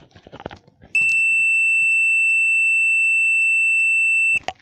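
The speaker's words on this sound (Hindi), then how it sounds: "ये देखिए बीप की आवाज़ आ रही है।" A multimeter continuity test gives a steady, loud, high-pitched electronic beep lasting about three and a half seconds, starting and stopping abruptly, with faint handling noises before and after.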